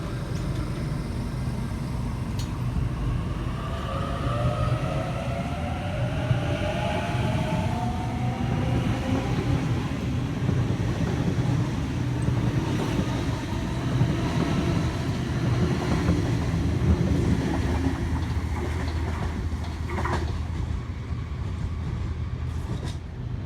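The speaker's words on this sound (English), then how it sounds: "Emu Plains service arriving into platform number 3, T97 leading" A Sydney Trains Emu Plains service with set T97 leading pulls into platform 3 at Penrith, its low rumble and rising motor whine rolling steadily past close by, with faint brake squeals, and no voices.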